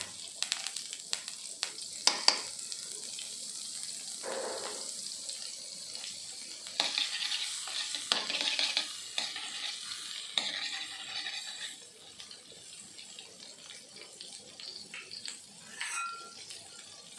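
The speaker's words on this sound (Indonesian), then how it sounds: "Selanjutnya dagingnya kita tumis ya." Minced meat sizzles as it is sautéed in oil and margarine, with bursts of frying crackle and repeated scraping stirs of a spatula in the pan, close and fairly quiet.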